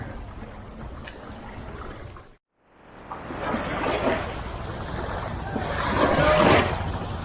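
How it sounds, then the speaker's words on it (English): Thai longtail boats on the water off a small island, heard as a low engine rumble mixed with wind and lapping waves. The sound drops out briefly, then returns and grows fuller. "Classic longtail boats here."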